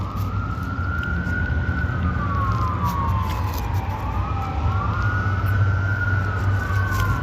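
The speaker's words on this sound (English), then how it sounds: "sirens." An emergency vehicle siren wails through the street, its tone sweeping steadily up and down without a break over a constant rumble of traffic noise.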